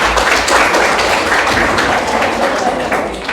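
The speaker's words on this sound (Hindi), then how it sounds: "तो तालियां एक बार जोरदार बजनी चाहिए" Studio audience on a quiz show clapping loudly after a correct answer, a steady, dense applause that runs throughout the clip with no clear speech.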